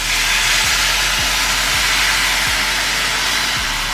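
Water poured into a hot pan while cooking a healthy lunch sizzles and steams in a loud, continuous broadband hiss, close and steady with faint low ticks underneath.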